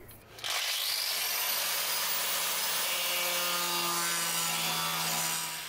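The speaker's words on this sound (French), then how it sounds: "Je vais maintenant pouvoir retirer l'excès de tôle soudée situé à l'intérieur de l'aile." Excess welded sheet steel is cut away inside the fender of a Honda Prelude VTi under restoration, a harsh, continuous, close-up grinding screech that starts suddenly and holds steady for several seconds.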